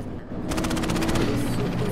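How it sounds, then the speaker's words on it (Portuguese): Rapid automatic gunfire in Cyberpunk 2077 bursts out in a fast, steady stream of shots fired by a character in the game world, loud and continuous over a dense ambient background. "O cara dando tiro pra cima sozinho?"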